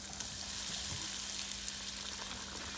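Chicken rolls fry in oil over medium heat, giving a dense, even sizzle that crackles steadily throughout, close and with no talking.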